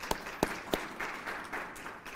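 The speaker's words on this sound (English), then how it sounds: "let's give a clap for that one right there" A few distinct hand claps ring out near and fairly quiet at a faculty institute gathering, followed by a soft, scattered patter of applause from the audience, with no voices.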